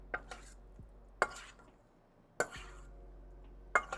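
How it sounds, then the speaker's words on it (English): Shrimp marinating in a bowl is stirred in four separate, evenly spaced bursts, each a sharp clink followed by a brief wet scraping swish, fairly close and otherwise quiet. "we'll give our shrimps that are marinating a stir"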